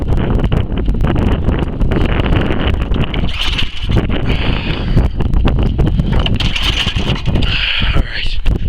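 A Murray Select 11-29 snowblower engine, cold-started in fall, running close to the microphone with a rough, sputtering low chug and wind buffeting throughout, its pitch shifting slightly partway through.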